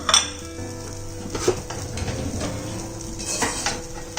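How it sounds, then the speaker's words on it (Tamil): Pizza khakhra set on a metal tawa pan over the stove, with clinks and scrapes of metal against the pan and a soft sizzle underneath, a few sharper knocks spaced through. "இப்போ ஒரு தவா வச்சுருக்கேன். அதில் வந்து இந்த பிட்சா காக்ராவை உள்ளே வச்சு"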